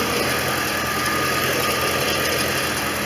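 Steady idle of a 1989 Corvette Roadster engine with its smog pump running, a continuous close, even rumble and whir that holds without change throughout.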